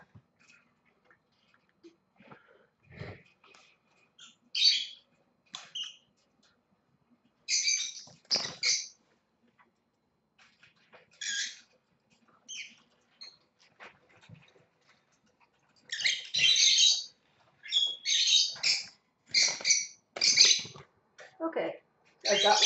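Cockatiels and lovebirds give harsh, scattered squawks and screeches while their wings and nails are trimmed with small scissors. The calls come in short loud bursts with quiet gaps between them, and there is faint handling noise.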